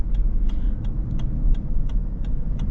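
A Lexus LX 600 SUV engine under heavy throttle, a loud, steady low rumble from inside the cabin with faint regular ticking.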